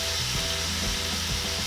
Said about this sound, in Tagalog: pwede ko na rin ilagay itong ating hiniwa na beef